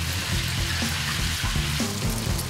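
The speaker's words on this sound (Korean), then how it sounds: "면의 윗부분에 기름을 부어가며 튀기는데" Boiled noodles deep-frying in hot oil while more oil is poured over the top, giving a dense, continuous bubbling sizzle with small irregular crackles, close and fairly soft, with no talking.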